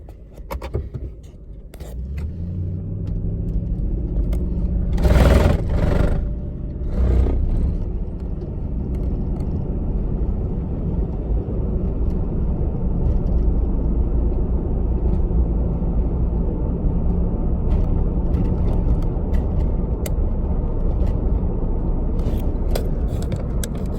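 A 2007 Toyota Tundra pickup with about a million miles drives along, with a steady low engine and road rumble heard from inside the cab. A few brief clicks and scrapes cut across the drone.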